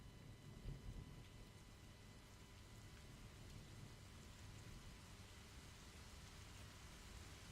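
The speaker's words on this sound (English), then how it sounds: "you hear the gentle patter of the storm outside." Steady rain from a storm falls outside, a soft, even hiss of drops with a faint low rumble near the start, quiet and continuous with no voices.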